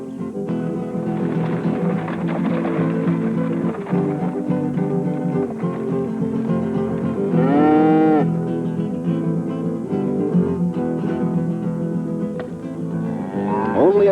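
Cattle mooing over a dense, busy background of orchestral-like sound, with one clear drawn-out moo standing out midway and another beginning near the end.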